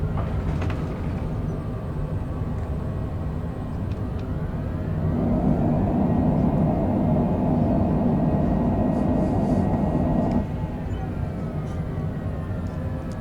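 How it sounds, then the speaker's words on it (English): Small airplane on its landing roll at Olympia with spoilers up and thrust reversers on, a loud steady roar of engine and rumbling wheels that swells mid-roll and then eases back, heard from inside the cabin with no talk. "Spoilers up, reversers on."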